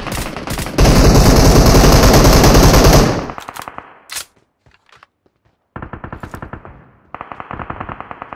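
Gunfire in PUBG Mobile rips out as a long loud automatic burst, then scattered single shots with quiet gaps, then two more rapid volleys near the end.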